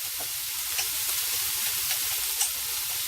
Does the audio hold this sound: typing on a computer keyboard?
no